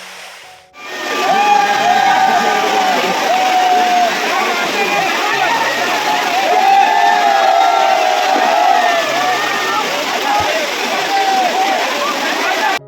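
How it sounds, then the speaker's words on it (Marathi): A large crowd of visitors at Chirma Devi waterfall in Thane, a loud, continuous mass of overlapping voices and shouts with rushing water underneath, which rises sharply after a quiet opening. "ती गर्दी किती होती ती तुम्हाला दाखवतो"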